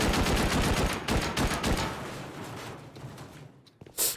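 Rapid gunfire rattles in a multiplayer shooter game, loud close bursts of shots for the first few seconds before thinning out, then a final sharp blast at the end.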